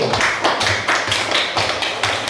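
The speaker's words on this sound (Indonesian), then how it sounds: "Tepuk tangan untuk kelompok 1." Classroom applause for a student discussion group, a few hands clapping in quick uneven bursts, close and loud with no talking over it.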